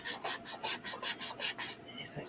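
Hand sanding soft resin makes about nine quick, even rasping strokes, close and crisp, before the rhythm stops.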